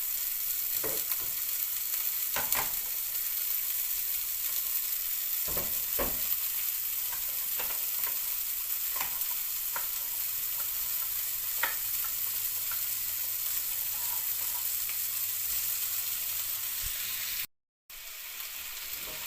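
Saltfish pieces frying with seasoning in a frying pan for Jamaican ackee and saltfish, a steady soft sizzle with scattered pops and crackles, close and even for a long stretch, briefly cutting out near the end.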